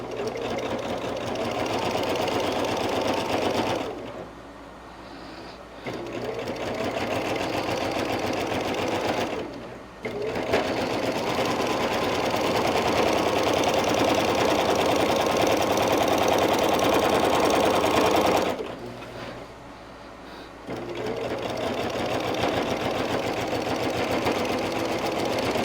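A sewing machine stitches binding around a quilted table runner, running steadily and loud with two short pauses where the needle stops, then resuming the same continuous whirring rhythm.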